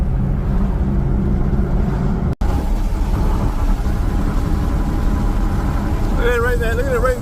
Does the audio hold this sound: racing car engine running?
yes